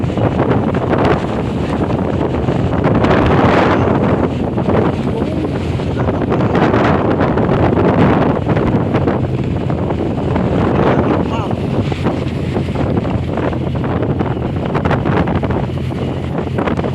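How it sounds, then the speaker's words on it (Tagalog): Steady roar of wind and rushing sea waves, like waves breaking near a moving fishing boat, continuous and loud throughout. "O yun o, mga alon."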